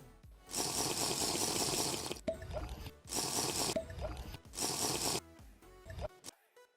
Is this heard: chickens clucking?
no